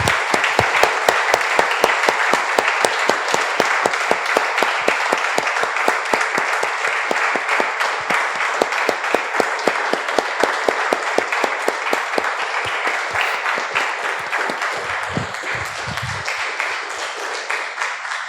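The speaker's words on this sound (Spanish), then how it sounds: "Damos un aplauso, hermanos, al Señor." A Spanish-speaking church congregation applauds in praise of the Lord, a sustained, dense round of clapping that carries on steadily and evenly for a long stretch with no voices over it.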